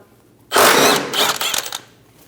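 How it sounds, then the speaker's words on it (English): A 14mm socket ratchet loosens a motor mount nut on a 2005-2009 Subaru Legacy, a loud close burst of fast clicking and whirring lasting under two seconds before it fades. "Using a 14mm socket, remove the nut for our motor mount."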